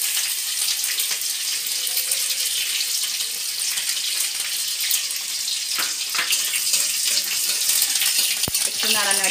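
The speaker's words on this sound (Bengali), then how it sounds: "গরম তেলে আমি একটু কালো সরষে আর সাদা সরষে দিয়ে দেবো, আর তাতে দিয়ে দেবো কারি পাতা আর কাঁচা লঙ্কার কুচি।" Black and white mustard seeds with curry leaves and chopped green chilli sizzle in hot oil, a steady close, loud hiss and crackle with scattered pops running throughout, with no talking.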